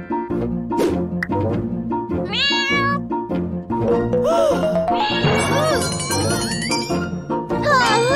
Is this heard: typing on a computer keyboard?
no